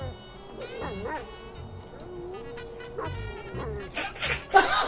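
A Rottweiler in GTA 5 giving yips and whimpering barks, with whiny tonal cries early and sharper bursts near the end, alongside a person speaking.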